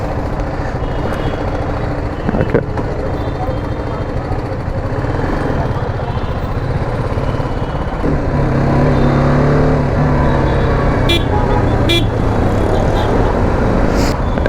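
A BMW GS310 motorcycle engine runs at idle, a loud, steady low rumble that holds close throughout, with a faint click partway through.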